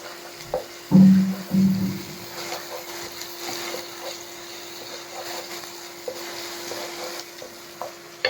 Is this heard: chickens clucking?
no